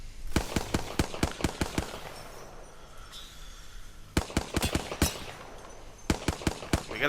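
Rapid bursts of gunfire in the shooter game Apex Legends, clusters of sharp, loud shots with short pauses between volleys and no talk over them.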